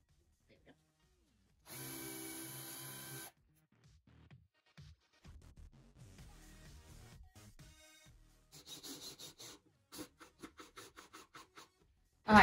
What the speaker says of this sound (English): right here for the screw holes, what we're going to do is countersink that